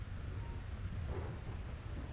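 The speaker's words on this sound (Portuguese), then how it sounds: "Mano, tá chovendo demais" Heavy rain pours steadily in the GTA 5 video game, a dense continuous hiss with a low rumbling undertone like distant thunder, no voices present.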